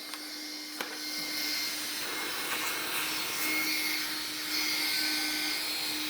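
A vacuum cleaner runs continuously with a steady, airy whine and hum at close range, with a couple of faint knocks near the start and no talking.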